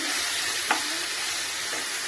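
A soy sauce mixture for a chapati roll is stirred in a pan, with a constant loud sizzle and a single light utensil tap.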